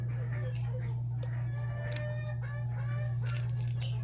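Backyard chickens cluck and call repeatedly at moderate distance over a steady low hum, with a rooster-like crow among the calls and no talking.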